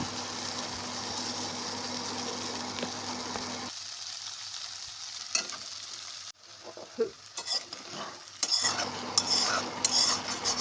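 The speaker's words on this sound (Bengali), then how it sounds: "আস্তে আস্তে লাগাতে থাকবেন যেহেতু প্রচুর লতি ভেঙে না যায় আর মশলাও কড়াইতে লেগে না যায়" Taro stolon curry with spices is stirred in a wok, with a steady sizzle and repeated scraping clinks of a metal spatula, close and continuous with a brief quieter moment.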